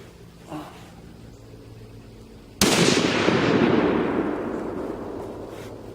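Single rifle shot fired while sighting in, a sharp loud crack at close range followed by a long rolling echo that fades slowly over several seconds.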